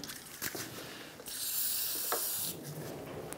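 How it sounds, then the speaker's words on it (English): Aerosol can of rust penetrant sprays onto a 2012-2020 Ford Focus front steering knuckle in one sustained hiss of about a second, bracketed by faint clicks and handling noises in a quiet workshop. "I'm going to spray it down with some rust penetrant to hopefully loosen up some of the rust and lubricate it"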